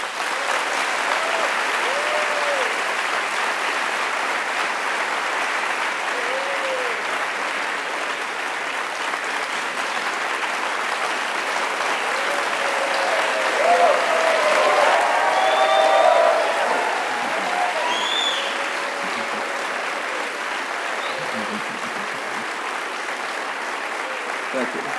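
An audience applauds steadily to welcome Noam Chomsky at The New School, producing a dense, even wash of clapping that swells slightly midway and holds for the whole stretch.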